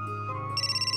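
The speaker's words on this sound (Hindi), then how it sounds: "एक सेकंड, जरा फोन आया।" A mobile phone ringtone sounds indoors, a short electronic melody that switches to a higher, pulsing beep pattern, heard clearly and alone.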